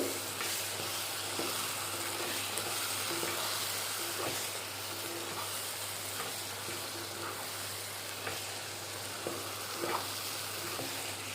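Masala spice powders and curry leaves sizzle and fry in a pan for an Andhra-style egg and broad bean curry, a steady, soft hiss with small crackles throughout and no talking.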